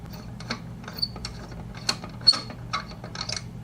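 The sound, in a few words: wrenches loosening router collet to swap bit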